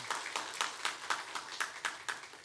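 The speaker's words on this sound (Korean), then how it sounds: "우리 비전센터 운영위원회를 위해서 여러분 박수 한번 쳐주시기 바랍니다" A church congregation at a Sunday afternoon service claps in a steady, evenly spaced rhythm, about four claps a second, heard at moderate distance and fairly soft.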